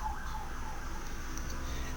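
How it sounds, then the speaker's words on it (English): A police siren wails at a distance under steady low traffic rumble, heard from inside an apartment, its pitch sliding faintly up and down for the whole stretch. "Pardon the police siren behind me."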